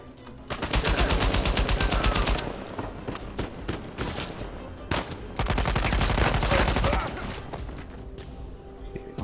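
Automatic gunfire in the Uncharted 4 video game, with dense rapid bursts of loud shots in two long volleys separated by a brief lull, plus scattered impacts in between.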